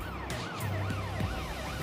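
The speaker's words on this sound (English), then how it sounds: "bangs on the sirens, and this time the van driver does notice the police car and pulls over" A police car siren wails in repeated rising and falling sweeps, loud and steady over the hum of a moving vehicle, with a short lower blip partway through.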